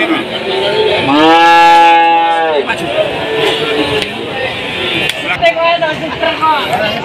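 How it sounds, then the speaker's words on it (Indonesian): Cattle at a busy livestock market in Tuban, with a long, loud cow moo near the start and further lowing from other animals against a steady crowd murmur and traffic noise. "suasana pasar sapi Tuban hari ini tanggal 30 Oktober tahun 2022."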